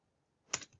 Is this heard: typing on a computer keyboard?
yes